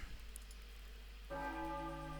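Church bells ring out in the stage music for King's church stage in Tekken, a sustained tolling chord entering midway over a steady low musical drone, loud and alone with no talk.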